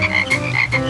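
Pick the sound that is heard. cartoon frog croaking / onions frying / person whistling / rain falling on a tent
cartoon frog croaking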